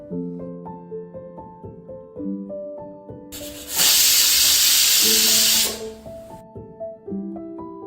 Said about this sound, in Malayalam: കുക്കർ മൂടി വെച്ച് ഒരു വിസിൽ വരുന്നവരെ നമുക്കൊന്ന് കുക്ക് ചെയ്യാം